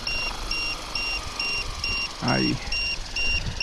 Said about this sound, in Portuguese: ele acaba acionando o alarme